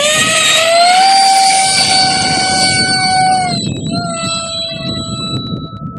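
An RC model jet's electric ducted fan impeller spins up with a loud, close, steady rising whine holding a strong pitch for a few seconds, then drops to a lower, rougher running tone.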